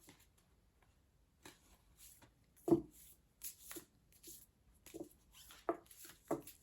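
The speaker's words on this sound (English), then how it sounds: "I'm going to shuffle this deck a little bit more." Soft, intermittent riffling and rustling of an oracle card deck being shuffled, quiet and close, with brief louder slaps between pauses.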